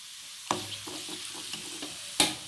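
Cooked prawns stirred in a pan off the heat: a faint simmer punctuated by several sharp spoon scrapes and knocks against the metal, the loudest at the start and end.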